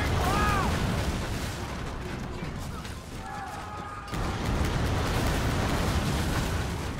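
Heavy cannon fire from a large warship in the naval combat game Skull and Bones: booming blasts with a continuous broadband roar behind them and a brief tonal whine in the middle.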